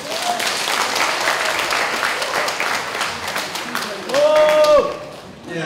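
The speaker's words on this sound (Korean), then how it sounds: "저한테 박수 한번 쳐주세요" Audience at a Buddhist world-peace prayer service breaks into sustained clapping, a steady dense patter that holds throughout with a voice briefly rising over it near the end.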